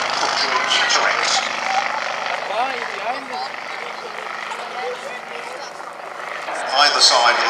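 A Comper Swift light aircraft with a 90 horsepower engine flies past at an airshow, its engine a steady broadband drone that holds throughout and swells near the end, with a commentator talking over it.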